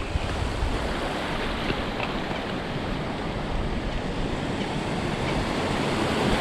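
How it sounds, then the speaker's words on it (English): Floodwater rushes across a flooded crossing, a steady loud wash of churning water with constant wind buffeting the microphone throughout. "Flooded, running quite nicely."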